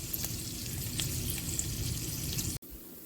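Food browning in olive oil, a dense close crackling sizzle that runs steadily and then cuts off abruptly near the end, leaving near quiet.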